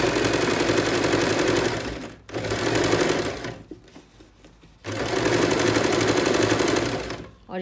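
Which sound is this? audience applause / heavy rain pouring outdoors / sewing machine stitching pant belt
sewing machine stitching pant belt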